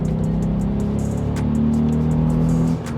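A VW Up GTI's exhaust drones loud and close at a steady cruise, with a low engine hum holding constant for a few seconds before easing off slightly near the end.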